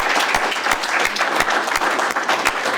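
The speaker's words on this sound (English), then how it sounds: "And another round of applause for this guy." A crowd at an awards honors night applauds loudly and steadily, with dense overlapping clapping and a few sharper individual claps standing out throughout.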